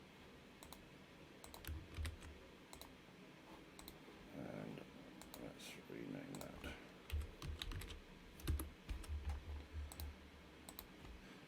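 Clicky computer keyboard typing in bursts of quick keystrokes, close and fairly soft, with pauses between runs and someone speaking briefly partway through.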